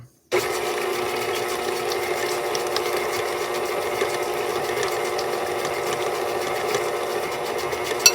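Chocolate chip cookie ingredients with milk are mixed by a motor that starts abruptly and then hums and whirs at a steady, fairly loud level without a break.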